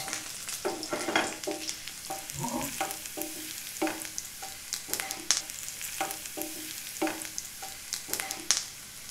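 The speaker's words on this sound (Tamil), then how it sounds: "இஞ்சி பூண்டோட பச்சை வாடை போகிற வரைக்கும் ஃப்ரை ஆயிடுச்சுங்க." Ginger garlic paste fries in a pan for ginger chicken, a low continuous sizzle under repeated scraping stirs of a spoon against the pan, close by and without speech.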